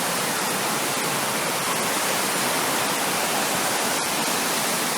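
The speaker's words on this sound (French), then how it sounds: "Vous regardez et vous écoutez la rivière juive. Je vais aller un peu approcher de la sortie de l'eau." River water rushes out at the Merkala outlet in Tangier, a loud, continuous broadband roar of flowing water heard close up with no voices.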